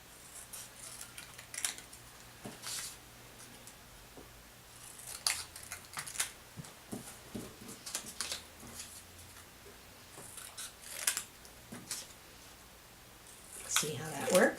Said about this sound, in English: Cut it from one corner straight to the other corner, and then you'll have that basic pattern.